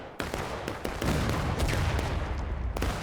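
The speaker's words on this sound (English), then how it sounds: "Artillery coming in." Artillery and musket fire in a War of Rights Civil War battle, a loud continuous barrage of overlapping gunshots with sharp cracks and deep booming rumble, close and relentless.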